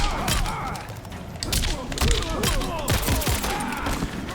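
Robocop's pistol shots ending a combo in Mortal Kombat: Aftermath, a burst of sharp reports mixed with punchy hits and thuds, dense and loud throughout with busy game effects.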